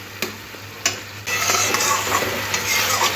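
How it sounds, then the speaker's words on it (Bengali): Ginger, chilli and tomato being stir-fried with potatoes and spices in a pan: a steady close sizzle of frying, with a couple of sharp scrapes of the spoon and continuous stirring that grows busier after the first second. "আদা, লঙ্কা আর টমেটো। এটাও আলুর সাথে কষে দিতে হবে।"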